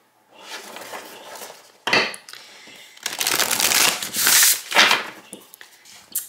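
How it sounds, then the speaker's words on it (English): Oracle-size angel tarot cards being shuffled by hand, a close series of papery riffles and slaps in uneven bursts, growing louder toward the end, with no talking. "let me give this one a shuffle"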